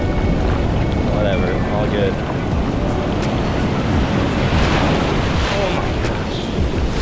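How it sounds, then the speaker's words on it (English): Ocean waves and gusty wind on a cold beach with surf rolling in, a steady broadband wash that fills the clip with a roar. A person speaks briefly over the surf. "It's cold and it looks like there's waves today, so audio might be shite."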